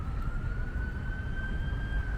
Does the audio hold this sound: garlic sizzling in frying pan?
no